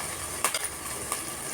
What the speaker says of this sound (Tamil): நம்ம கொஞ்சமாக கருவேப்பிலை போட்டு வதக்கி எடுத்துக்கலாம்.